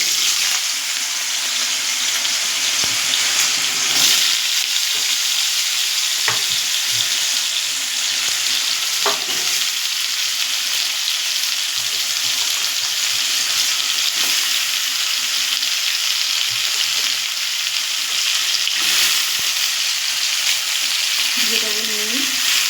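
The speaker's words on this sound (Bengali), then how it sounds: "এবার আমরা এর মধ্যে আলুগুলো এক এক করে ছেড়ে দেবো।" Potatoes frying in oil in a pan with black cumin seeds, a continuous loud sizzle and crackle with faint stirring, steady for the whole stretch.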